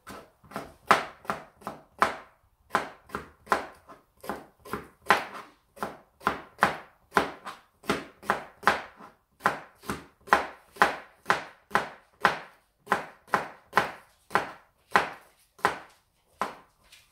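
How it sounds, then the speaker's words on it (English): A knife chops parsley for tabouli on a cutting board, a long, steady series of crisp, close thuds in a regular rhythm, with a short pause early on and no talking. "We'll chop this."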